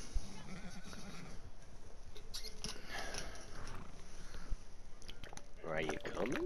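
A horse in a video game lets out a short, rising whinny close to the end, heard over faint game ambience while a person talks.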